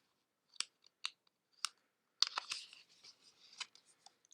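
A deck of oracle cards being shuffled: a few separate soft riffling snaps, then a denser flurry of papery shuffling, quiet and close with no talking.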